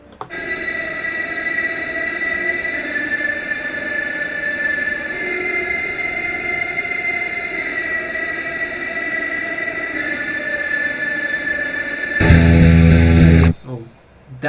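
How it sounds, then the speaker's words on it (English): A sustained, gritty synth line plays guitar-style notes from the Doom Eternal menu theme for about twelve seconds, then a brief, much louder distorted burst hits before it drops away. "Same notes of the guitar, but played on the synth."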